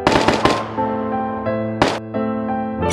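Gunfire from the mobile battle-royale game Knives Out: a quick burst of several close, sharp shots opens the clip, then a single loud shot follows later. Each shot leaves a ringing metallic tail behind it.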